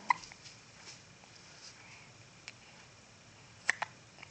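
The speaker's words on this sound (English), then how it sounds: "he has the hiccups" A baby boy hiccuping while lying in a nursing pillow; small, sharp, isolated hiccups, one at the start and a pair near the end, faint against a quiet room.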